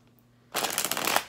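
Tarot cards being shuffled: a sudden, close, papery riffle that starts after a moment of near silence and runs steadily for under a second before fading.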